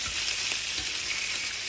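Vegetarian sausages fry in a pan, giving a brief steady sizzle with a few soft knocks as they are turned, quiet and close.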